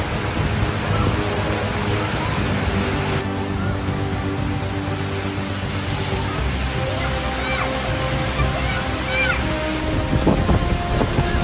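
Floodwater roars in a dense, constant rush after 246 mm of rain fell in ten hours in Saudi Arabia and swept away cars. The sound is loud, close and unbroken.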